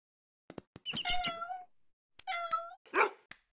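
A cartoon cat meows in a children's animated show, giving two drawn-out, close, clear meows separated by a short pause, with small clicks around them and a rougher hiss-like cry at the end.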